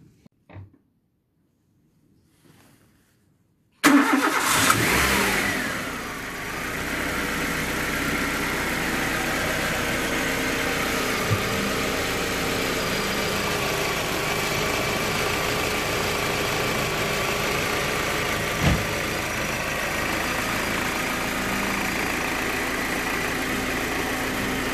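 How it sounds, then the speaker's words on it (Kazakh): A car engine is started for a generator check: quiet handling noises, then a sharp crank and catch, and a loud rev that settles into a steady, close idle running alone for about twenty seconds. "Енді автокөлігімізді оталдырдық."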